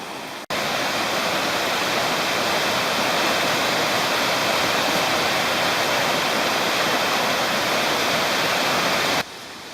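Steady rushing water pours continuously from a squeezed filter bag, loud and close, stopping abruptly near the end.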